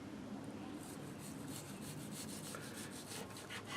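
A knife saws through partially frozen beef in quarter-inch slices, making faint, close rasping strokes in a quick repeated back-and-forth rhythm.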